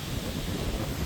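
Strong wind blows in light rain around a flooded Amman temple at Manipay, Suthumalai, heard as a steady, dense roar buffeting the microphone without any voices.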